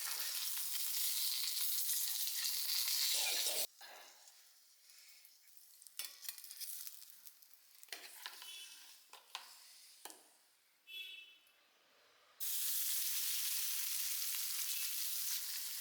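Two pieces of neymeen (seer fish) fry in a small pan, with loud, even sizzling at the start and end and quieter, uneven crackling and spatter in between.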